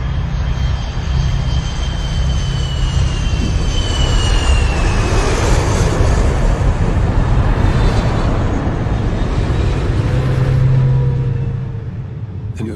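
Airplane passing low overhead close to an airport runway, a loud, broad engine roar that swells and holds for several seconds before easing off, with no talk.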